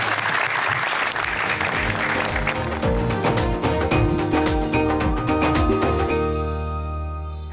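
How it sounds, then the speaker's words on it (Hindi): Studio audience at an Eid-ul-Adha special TV show bursts into loud, dense applause that soon blends with tinkling, tuneful show music, the clapping fading as the music carries on. "जोर तालियां बजाइए जी"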